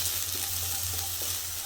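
Grated coconut dry-roasting in a pan for a Kerala-style fish curry, giving a steady, soft sizzle with light scraping stir sounds throughout, close and moderately quiet, with no talking.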